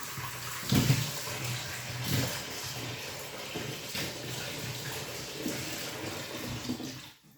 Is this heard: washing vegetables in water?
yes